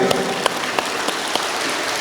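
A seated audience gives a short round of applause, quick scattered claps forming a steady, moderately loud patter, close by.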